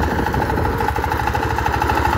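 An ACI 28 plough tiller runs steadily while tilling a dry vegetable field on its second pass, a close, continuous engine drone with a rapid rhythmic pulse from the spinning blades.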